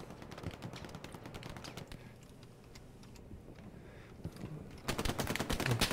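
Distant battlefield gunfire in Hell Let Loose, scattered faint shots crackling through the first seconds, then a louder, closer volley near the end.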